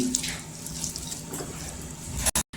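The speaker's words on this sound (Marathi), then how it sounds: "स्वच्छ 2 ते 3 पाण्याने धुवून घ्यायची" Running tap water splashes steadily into a sink as something is rinsed, then the flow cuts off abruptly near the end.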